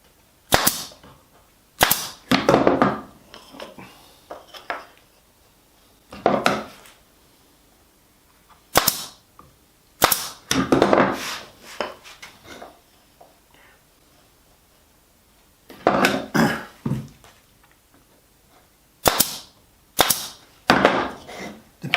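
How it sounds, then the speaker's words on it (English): A pneumatic pin gun fires pins into a glued fiddleback maple box in a woodworking shop, giving sharp, close, isolated snaps in scattered pairs and bursts separated by quiet gaps. "The pin gun works great"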